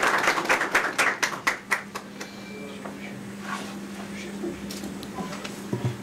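Applause in a hall at a Turkish media partnership event as a former transport minister is invited to the podium, brisk clapping for about two seconds that then thins out and fades into quiet room noise.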